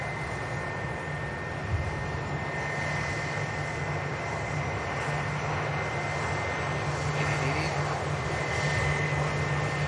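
A large airliner taxis onto its stand at Manchester Airport. Its engines give a steady, close whine and rumble, with a constant high tone over a broad roar and no break throughout.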